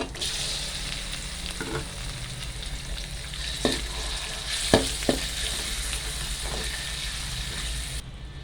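Chicken breast sizzles in a pan with garlic, a steady close frying hiss throughout with a few sharp pops and utensil clinks.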